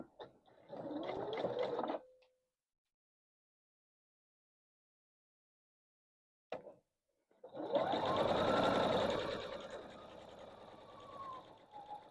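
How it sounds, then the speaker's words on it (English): Sewing machine joining quilt block pieces, with a short run of stitching, a long silent gap and a brief tap, then a longer, louder steady stitching run close by. "This is going to get sewn onto here"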